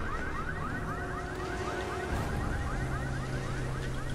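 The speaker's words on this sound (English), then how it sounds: "I'm just gonna shut off that damn alarm." A car alarm in the zombie video game Resident Evil 6 keeps cycling its fast warbling siren, steady but fairly quiet, beneath a low droning game soundscape with no talk.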